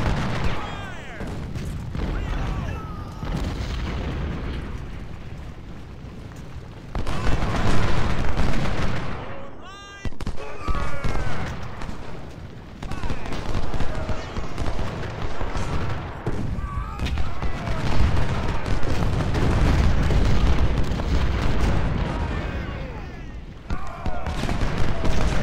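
Cannon artillery volleys in the Civil War strategy game Ultimate General: Civil War, loud repeated booms and crackling gunfire blending into a dense battle din, with someone talking excitedly over it.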